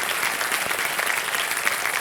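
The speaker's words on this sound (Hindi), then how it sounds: "एक बार फिर आपका बहुत बहुत स्वागत करते हैं तालियों के साथ हमारे कार्यक्रम में" Studio audience of the Indian quiz show Kaun Banega Crorepati applauding, a dense, even wash of clapping that holds steady and fairly loud from start to finish with no voices over it.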